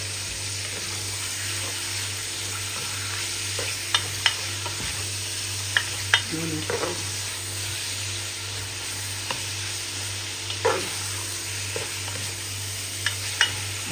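Adobo with egg browns in a pan with a constant, soft sizzle under a steady hum, broken by occasional light clicks and stirring scrapes, with no talking.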